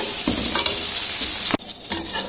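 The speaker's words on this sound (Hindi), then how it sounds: "2 बड़े प्याज लिए थे मैंने, उनको बारीक बारीक काट लिए। अब इनको फ्राई करके" Finely chopped onions fry in a hot pan with a steady, dense sizzle, broken by a brief dip as they are stirred, then the crackling resumes at close range.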